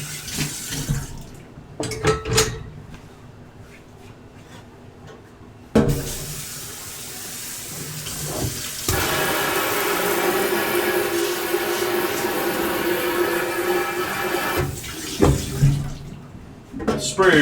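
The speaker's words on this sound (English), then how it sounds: "Sprayer's loud, but it's always the best for getting stuck on grease and fat." A loud kitchen sink sprayer blasts water over greasy pots from a stovetop cassoulet, a steady hissing rush broken by clanks of pans and short bursts of running water, with a little talk mixed in.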